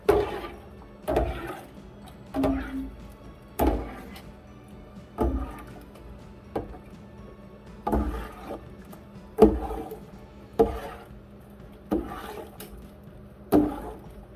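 A spoon stirs whey in a pot while making ricotta, producing regular swishing, scraping strokes roughly every second, close and fairly quiet, against a low steady background hum.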